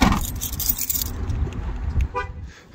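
A car horn gives a short toot chirp as the car is locked in a store parking lot, the brief double-chirp arriving late in the clip over steady outdoor background noise.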